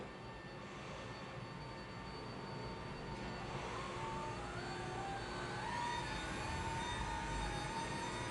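Electric actuator motor of a Permobil F5 power wheelchair raising its seat to a standing position, giving a steady whirring drone whose pitch rises gradually as the lift continues.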